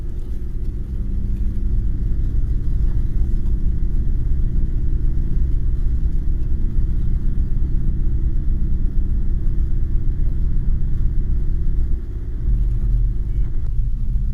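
A car drives steadily along a road, its engine rumbling low and constant throughout at close range, with a brief change in tone near the end.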